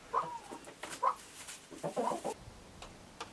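Hens in a farmhouse coop cluck in short, scattered bursts, several soft calls close by with quiet gaps between them.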